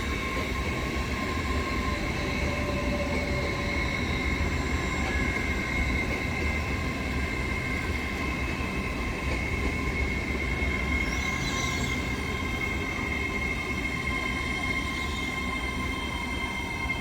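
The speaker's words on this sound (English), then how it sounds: "first service for today is a 801 222 and that is a LNER service off to York" Continuous rumbling hum of an LNER Class 801 train, unit 801 222, departing Doncaster for York, steady electric whine and wheel noise at moderate distance with faint squeals.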